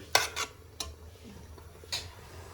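Spice powders stirred into a pot of sambar: a few sharp spoon knocks and scrapes against the metal vessel, close and spaced irregularly over a faint background, with no speech.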